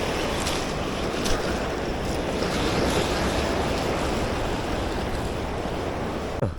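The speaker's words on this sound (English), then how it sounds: "The water is rough." Rough sea waves surge against a Jamaican shoreline where someone is shore fishing, a continuous loud wash of surf with gusty wind noise on the microphone throughout, no voices.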